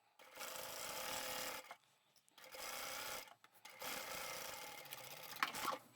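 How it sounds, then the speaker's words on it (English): Sewing machine stitching a bag side seam at a 1 centimetre allowance, running in three steady close bursts with short pauses between them. "Let's go and sew that seam now"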